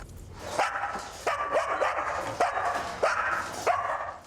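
A small puppy barks in short, sharp yips, five or six separate barks at a regular interval, fairly close and clear.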